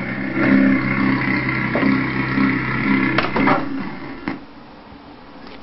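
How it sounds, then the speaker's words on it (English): A manual car engine idles and rumbles, then shudders with a couple of clunks and cuts out, stalling when put into first gear without the clutch, leaving near quiet at the end. "Listen carefully to the sound of the engine as I put it into first gear without holding down the clutch."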